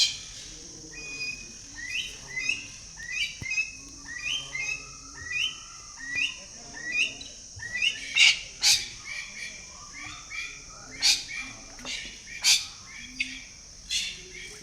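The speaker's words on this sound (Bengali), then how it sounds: "এই দেখুন পাখি উড়ে যাচ্ছে," Birds call inside a walk-through aviary where they fly freely overhead. There is a regular series of fairly close chirps and whistled notes, sharp high tweets, and quiet background ambience.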